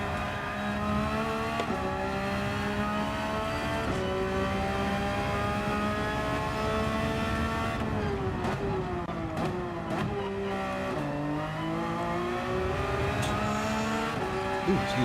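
A race car laps Mount Panorama in Gran Turismo 7, its engine droning loud and steady, pitch rising through each gear and dropping sharply on upshifts and braking, with brief tire noise, no voices.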